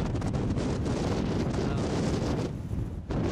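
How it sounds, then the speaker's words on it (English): Strong wind roars steadily outdoors, buffeting a microphone with a dense low rumble that hardly lets up before easing slightly near the end. "I'm gonna get out of the wind"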